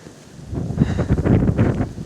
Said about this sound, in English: Winds are still gusting a bit.